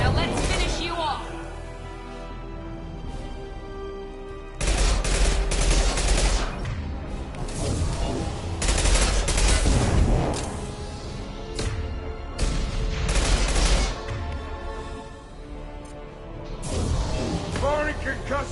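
Mass Effect 2 combat gunfire: dense bursts of automatic fire and heavy shots, loud and sustained across the whole stretch, with explosive thumps and a voice calling out in between.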